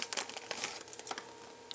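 A small plastic bag holding two screws from an LED water clock kit crinkles and rustles softly up close in brief, scattered bursts.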